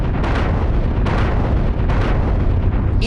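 A big cosmic explosion effect, a loud deep rumbling roar with several sharp bursts layered over it, steady and dense throughout, without any speech.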